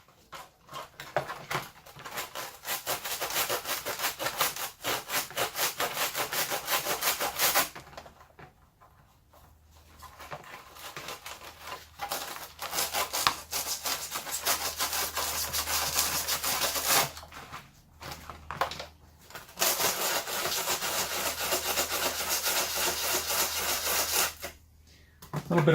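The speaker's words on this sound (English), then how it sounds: "We are going to need to sand the edges a little bit first" Sandpaper rasps along the edges of a clone trooper torso armor piece for an Obi-Wan Kenobi costume build, steady scratchy strokes running close and continuous, broken by two short pauses.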